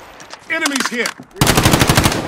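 Loud, rapid bursts of automatic machine gun fire in the Call of Duty: Modern Warfare video game, preceded by a brief shouted voice, then a dense, continuous stream of shots.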